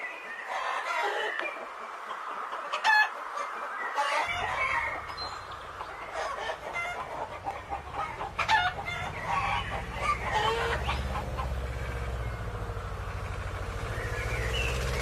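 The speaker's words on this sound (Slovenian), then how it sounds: "Kaj ne, petelinček? Ti zgodaj vstaneš in zbudiš vse na kmetiji." A rooster crows and hens cluck nearby, with farmyard bird calls throughout and a low rumbling hum joining in partway.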